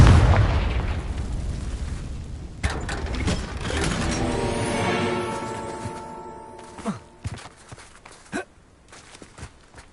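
Confringo, an explosion spell in Hogwarts Legacy, lands with a loud booming blast that rumbles and fades, followed by scattered thuds and pops as debris settles.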